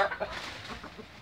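A young hen and rooster pair in a backyard give a few quick, close clucks at the start, then fade into soft background noise in a short burst.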